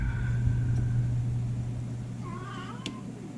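A cat meows briefly at a distance in a workshop during a circuit-board badge repair, a short faint cry over a steady low hum.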